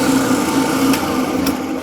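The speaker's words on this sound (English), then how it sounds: "So I have a sharpening machine, and there's several sharpening machines out there." A sharpening machine in a wood carving workshop whirs with a steady high-pitched motor hum as its round abrasive wheels spin, close and continuous, with faint brief scrapes.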